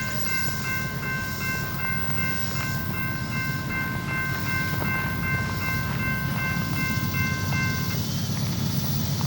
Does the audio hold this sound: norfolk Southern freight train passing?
yes